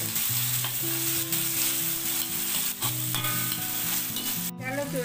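A handful of ginger and garlic frying in a pan for mocchai kottai kari, a loud, dense sizzle with steady crackle and a low kitchen hum, one brief clatter near the end, no talking.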